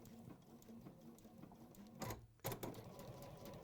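A sewing machine stitches a 1.5 cm seam allowance down the end of a garment piece with a steady, quiet mechanical whirr. The run breaks briefly with a couple of clicks partway through.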